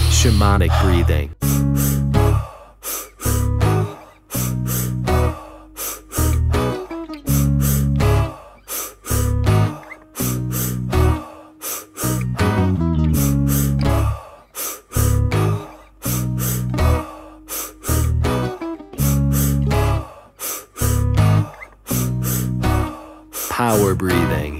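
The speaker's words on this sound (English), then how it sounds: "Power breathing." Power breathing in a breathwork session: forceful inhales and exhales come in rhythmic clusters with brief gaps, loud and close over a steady musical backing.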